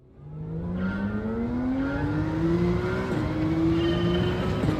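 A Gr.3 race car engine in Gran Turismo 7 at Catalunya revs steadily higher through a gear, then dips briefly at a shift and climbs again, loud and close with a smooth, buzzing tone.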